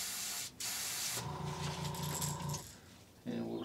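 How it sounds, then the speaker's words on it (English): An airbrush sprays unthinned paint through a detail brush onto a fishing lure, giving short bursts of close, steady hiss separated by brief pauses and faint mechanical rattles. "we'll see if it'll spray it through the detail brush without thinning it"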